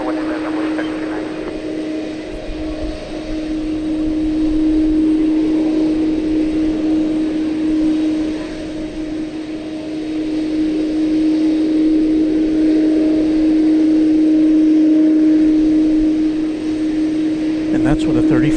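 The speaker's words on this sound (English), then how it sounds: "And that's what a 34-year-old tri-jet sounds like." A 34-year-old tri-jet airliner takes off at DFW airport at night, a sustained loud engine roar with a steady droning tone, swelling and easing across the whole span.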